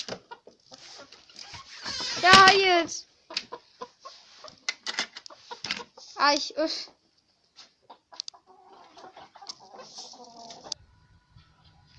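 Chickens cluck and squawk nearby in irregular bursts at a backyard coop, with someone speaking briefly over them.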